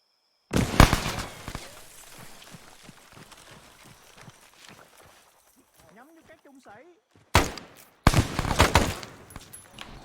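A frag grenade goes off inside a building in a tactical shooter game, heard as a sharp loud burst and crackling debris, then two more heavy blasts near the end, with radio-style chatter in between.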